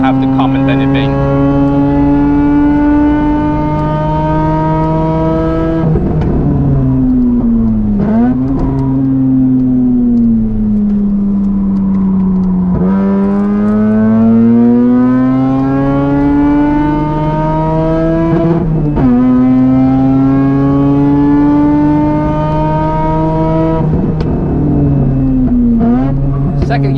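A Mazda RX-8 with a bridgeported 13B rotary engine screams up to 10500 RPM on the Nürburgring. It is loud and close, rising through repeated long pulls, with sharp drops at each shift or lift.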